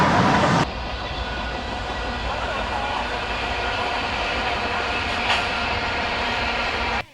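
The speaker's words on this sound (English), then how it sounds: "that's your first real train" A train rolls past near a marching band rehearsal area, a steady moderately loud rumble of railcars with faint clatter, after a brief louder burst at the start.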